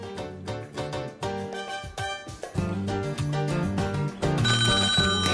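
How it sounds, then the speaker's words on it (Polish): A telephone rings repeatedly in quick trilling bursts during a live Polish night-time radio phone-in quiz, heard close and clear over a music bed. "Jest kolejny telefon"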